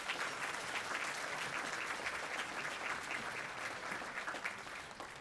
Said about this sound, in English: Let's give our guests one big round of applause.